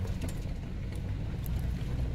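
Van rolling along a road toward forest land, a steady low engine and road rumble with faint wind noise throughout, continuous and close with no voices.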